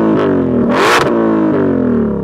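A loud 2020 Shelby GT500 Mustang exhaust in track mode burbles at idle, then roars through one sharp throttle blip with crackle before dropping back to a deep rumble.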